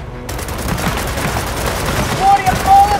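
Gunfire in the video game Gears of War 4 during a base assault: dense, continuous rattling bursts with booms, loud and close, mixed with other game sounds.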